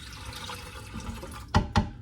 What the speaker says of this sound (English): 3 cups of warm water, okay? And we're gonna put that in there as well.